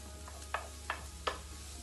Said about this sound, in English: just cook those off for a few minutes, stirring because you don't want them to burn